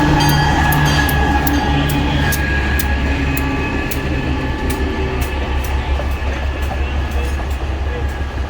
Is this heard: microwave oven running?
no